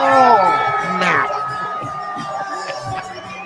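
A raucous crowd at a GCW vs. JCW wrestling event cheers and shouts continuously, loud and close, with whoops and voices swelling then settling slightly.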